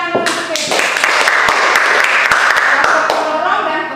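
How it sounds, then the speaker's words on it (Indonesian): Students in a classroom clap together in steady, continuous applause that stays loud and close for about four seconds before tapering off slightly at the end. "baik, tepuk tangan untuk Feby."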